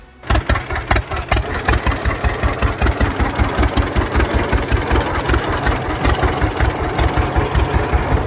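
A heavy old John Deere Model D tractor engine starts and settles into a loud, slow, rhythmic thumping idle, each beat distinct and close.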